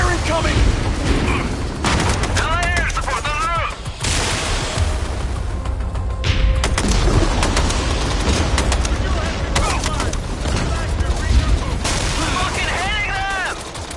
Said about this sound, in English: Heavy fire incoming!